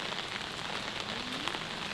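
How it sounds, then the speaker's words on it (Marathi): Steady rain falls on a farm plot in Konkan, making a soft, continuous patter on surfaces that holds an even level throughout, with no voices present. "सकाळपासून वाडीत खूप पाऊस हा."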